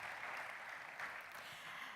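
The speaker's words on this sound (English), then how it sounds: "Ladies and gentlemen, Tony Cripps, a round of applause for him." Steady audience applause for a speaker at a live conference event, continuous and even but faint and distant throughout.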